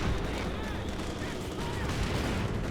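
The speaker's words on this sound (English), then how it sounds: "Brutal shot by the Comet." A Comet tank fires its main gun in Company of Heroes 2, the shot landing within dense, continuous battlefield noise of gunfire and explosions with no clear quiet gaps.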